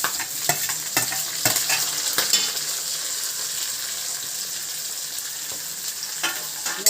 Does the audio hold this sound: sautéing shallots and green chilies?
yes